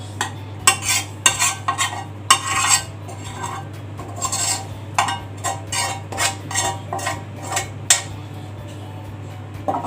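Utensils scrape and clink against a pan while a noodle and beef layer is spread for macaroni bechamel, giving a run of short, fairly close scraping knocks over a steady low hum.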